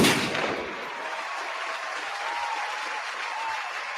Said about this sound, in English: this clap was very long